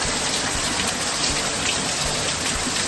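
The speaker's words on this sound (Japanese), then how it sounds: "大雨" Heavy rain pours down steadily, a dense, loud hiss of drops drumming on surfaces with no break and no voices.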